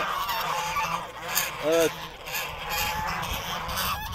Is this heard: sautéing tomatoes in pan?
no